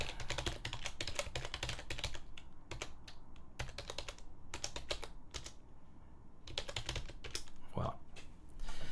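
Fast bursts of typing on a computer keyboard in a Linux terminal, close and steady, with clusters of key clicks separated by short pauses and a low background hum.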